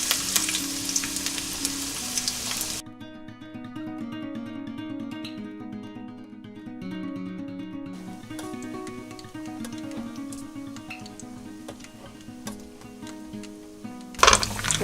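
Ginger and garlic sizzle and fry in hot olive oil in a pan while making garlic oil for pasta, a loud crackle at the start, then quieter frying under background music, with stirring clinks near the end.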